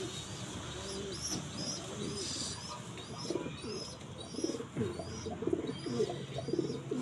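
Pigeons coo repeatedly and softly close by, their low, rolling calls layered with higher chirps from other birds in a quiet loft.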